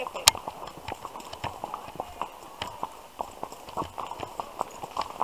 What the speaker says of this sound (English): We have horses now.